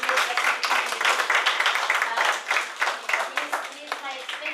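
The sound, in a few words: audience applause for Chris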